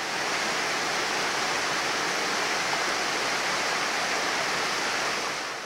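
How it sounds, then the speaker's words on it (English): A waterfall in the Eastern Sierra Nevada mountains roars in a steady, dense rush of falling water, loud and unbroken throughout, with no voices. "We saw very many waterfalls."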